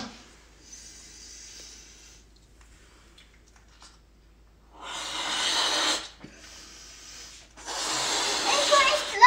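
Several bursts of breathy air rush in strong puffs, separated by short pauses, with quieter hissing before them.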